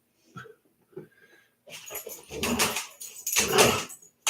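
A dog whimpers softly, then breaks into louder whining yelps and snuffly breaths, close by in a garage workspace.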